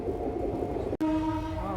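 Moving train on the inaugural run of the Narasapur–Hubli Amaravathi Express: continuous rolling rail rumble, briefly cut by a short dropout halfway, then a faint tonal whine over the steady running noise.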